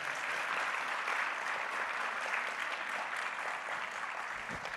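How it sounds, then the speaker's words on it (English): Large Comic Con audience clapping in front of a big stage, a dense, steady roar of applause that holds throughout and thins slightly at the end. "Let's a huge round of applause for that."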